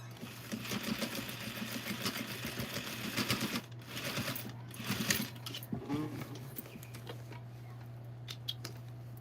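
Sewing machine stitching across the top of a jeans waistband near a belt loop during a repair, a steady close whir with fast needle patter over a constant low hum, fading toward the end.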